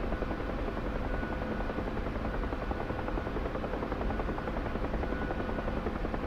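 A UH-1 Huey helicopter in the DCS flight game, heard from inside the cabin as a loud, steady rotor and turbine drone with a constant fast beating, unbroken throughout.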